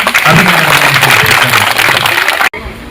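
Audience applause for a speaker at a school event handing out free bags to schoolchildren, a loud, dense wash of clapping that fills the space and stops abruptly near the end.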